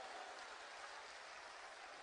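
An audience at Bageshwar Dham claps to thank the administration, a faint, steady, distant wash of applause with no gaps.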